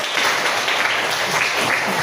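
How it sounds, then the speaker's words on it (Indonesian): A classroom full of people clapping steadily, a dense, even patter of applause at moderate volume with a faint murmur of voices underneath. "tepuk tangan dong"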